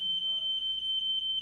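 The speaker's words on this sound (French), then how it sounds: "c'est notre alarme qui est 9h, puis il faut checker notre job dans l'usine" A workplace alarm sounding at 9 o'clock, a continuous piercing electronic tone like a smoke alarm, loud and steady throughout with a faint low murmur underneath.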